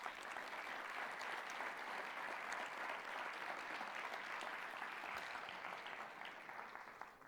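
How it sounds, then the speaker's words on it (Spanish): A church congregation claps steadily throughout, a soft, distant wash of applause with no talk over it. "¿Cuántos le pueden dar un fuerte aplauso al Señor?"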